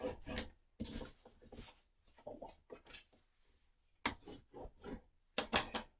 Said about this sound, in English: And fold and burnish.